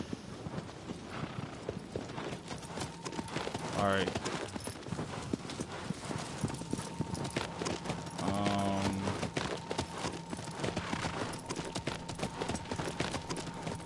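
A horse ridden across open ground in the video game Shadow of the Colossus, its hooves making a steady, rhythmic clip-clop throughout while someone talks over it.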